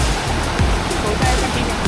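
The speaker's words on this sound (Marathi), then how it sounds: "बघा वॉटरफॉलची मजा बघा." A steady, roaring rush of a monsoon waterfall near Waghbhil fills the whole stretch, loud and continuous with no pauses.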